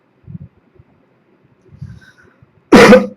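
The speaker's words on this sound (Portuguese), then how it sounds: "Estou com um pouquinho de tosse, pessoal." A single loud, harsh cough bursts out near the end, following a few soft low throat sounds and faint breaths in an otherwise quiet room.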